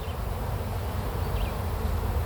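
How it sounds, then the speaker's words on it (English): Honey bees at an open beehive, a dense continuous buzz of many insects close by, steady and droning with no talking. "These bees are doing fantastic."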